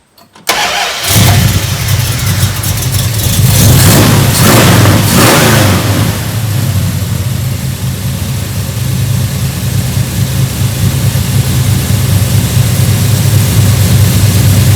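Engine of a 1973 Dodge Swinger with its carburetor mixture, idle and timing being set, cranking and catching, then running loud and close with a rough rumble and a few revs before settling into a steady idle.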